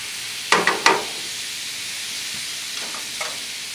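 A steady, loud sizzle of venison chops frying in a pan fills the scene, broken early by three quick sharp clicks or taps and a few fainter ones later.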